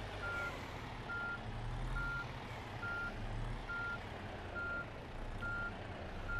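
A truck with a trailer reverses in the On The Road video game on PS4, its backup alarm beeping at a steady, regular pace over a low engine rumble.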